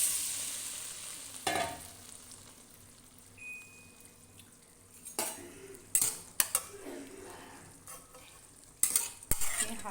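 Boiled chicken pieces being stirred and fried in a pan with whole black pepper, with a low sizzle under intermittent sharp scrapes and clinks of the utensil against the pan.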